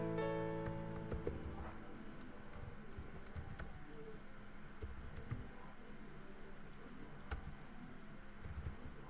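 Quiet typing on a computer keyboard, a scatter of light irregular key clicks over a low background hum, with no talking.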